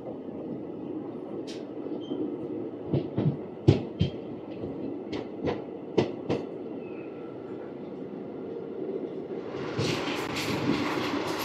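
The Circar Express 17644, running from Kakinada Port to Chengalpattu, rumbles along from onboard with a steady low roar, broken by a series of sharp rail clicks and knocks midway and a brighter hiss building near the end.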